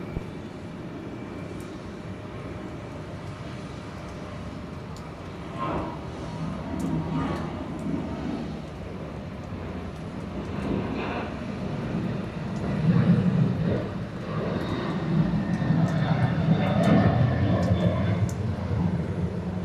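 A jet airliner landing on runway 26 right at Atlanta airport, its engine roar a steady distant rumble that swells gradually and grows louder toward the end.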